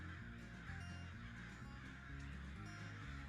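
Crows caw loudly in a continuous, overlapping squawking chorus, with the harsh calls held over a droning musical bed throughout.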